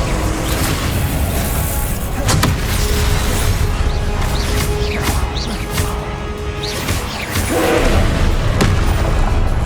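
Expelliarmus disarming spell cast in Hogwarts Legacy, loud booming impacts and whooshing magic blasts over a dense, constant game soundscape with no talk.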